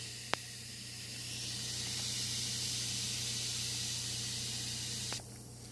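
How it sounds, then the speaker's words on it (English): Baking soda reacting and fizzing as gas escapes, a steady soft hiss that holds for several seconds between two sharp clicks before it suddenly drops away. "It's even making a sound. It's fizzing. There's some sort of gas coming out."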